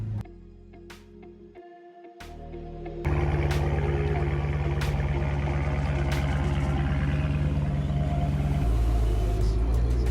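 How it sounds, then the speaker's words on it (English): A V8 engine grumbles with a deep, steady rumble that swells louder partway through and stays close and heavy to the end. "I know you're gonna hear that nice V8 grumbling in the background."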